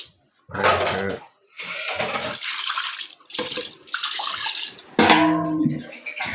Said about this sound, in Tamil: எல்லாத்தையும் கழுவி கழுவி இதில் ஊற்றணும்